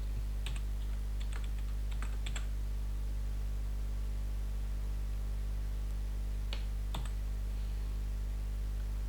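Computer keyboard typing in short bursts of a few quiet keystrokes with pauses between, faint over a steady low hum.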